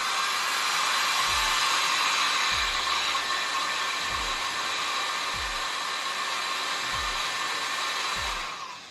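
A big hair dryer blows steadily and loudly onto a Chi Lava Curl Shot curling tool, with soft regular clicks of the tool every second or so beneath the rushing air, cutting off at the end.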